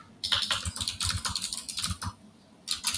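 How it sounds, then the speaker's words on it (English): Loud clattering computer keyboard typing up close, rapid bursts of keystrokes with brief pauses between runs, no talking. "your crackling of your keys is like, it's pretty loud"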